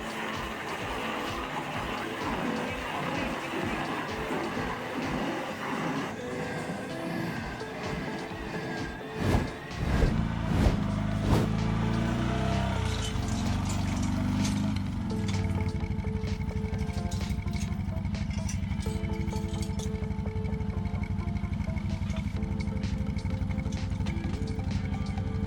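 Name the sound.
excavator-mounted hydraulic stump grinder grinding logs into chips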